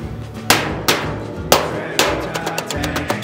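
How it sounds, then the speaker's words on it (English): Sharp metallic hammer strikes on the high spot of a dented car hood ring out at an uneven pace, several heavy blows followed by quicker, lighter taps, close by. "hammer on the high spot"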